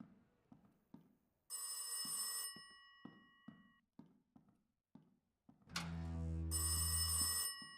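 Telephone in the horror video game Rise of Insanity rings in two loud bursts of bright electronic trilling, separated by soft thudding footsteps and a deep rumbling tone under the second ring.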